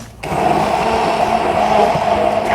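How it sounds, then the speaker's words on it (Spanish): Blender whirring steadily at close range as it mixes a homemade keratin hair treatment made with conditioner. It switches on abruptly and holds a loud, even motor drone with no talk. "Le tuve que pasar un poquito a la licuadora porque se veía que quedaban como grumitos del acondicionador."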